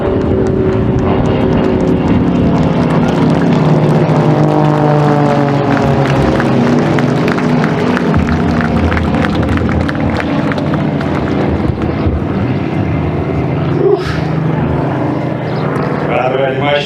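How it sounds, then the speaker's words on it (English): Supermarine Spitfire flying over an outdoor Armistice Day ceremony, a loud sustained propeller-engine drone that swells and holds throughout, heard under an announcer's voice addressing the crowd. "you'll see our Spitfire coming through"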